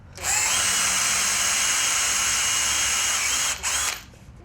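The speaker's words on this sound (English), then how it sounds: "drill a pilot hole here first, just through the top half" A power drill whines steadily at close range for about three seconds, bores a pilot hole into reclaimed pallet wood, briefly stops, then runs again for a moment before winding down.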